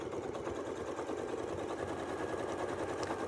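Quilting sewing machine running continuously as it stitches along a Westalee Sashlee ruler template, a steady, even mechanical hum and rapid needle rhythm throughout.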